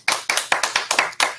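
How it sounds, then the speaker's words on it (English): A single person clapping close up, six or seven sharp, evenly spaced claps in a quick steady rhythm, with no other sound around them. "I just want to give a round of applause to Ryan Murphy"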